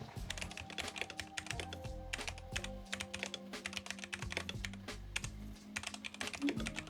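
Fast, steady typing on a computer keyboard, close and fairly quiet, with rapid key clicks in bursts and short pauses, heard alone.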